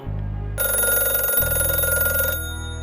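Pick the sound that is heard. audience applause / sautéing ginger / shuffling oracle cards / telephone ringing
telephone ringing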